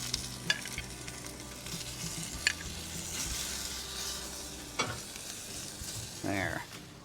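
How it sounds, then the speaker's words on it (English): Peppers, onions and chicken sizzle steadily in hot oil for chicken fajitas, a continuous loud frying hiss with occasional stirring clatters and scrapes, no talking. "Take your peppers and onions, there's your sizzle."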